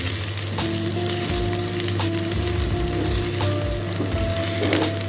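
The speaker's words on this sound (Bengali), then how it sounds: "এটাকে সুন্দর করে ভাজতে হবে, গ্যাসের ফ্লেম লো করে ভাজতে হবে" Rice frying in a pan over a low gas flame, a steady close sizzle with scraping stir strokes and occasional clinks running throughout, with no voices.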